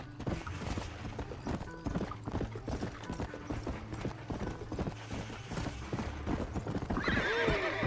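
A horse in the L.A. Noire video game trots with steady, close clip-clop hoofbeats throughout, then lets out a loud whinny near the end.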